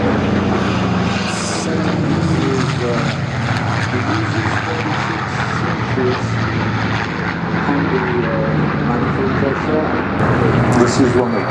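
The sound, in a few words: aircraft engine running at an airshow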